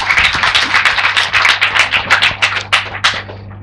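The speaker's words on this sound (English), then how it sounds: "Give him a round of applause" Lecture audience clapping for a guest speaker, a loud, close round of applause with distinct individual claps and rhythmic pulses, tapering off at the end.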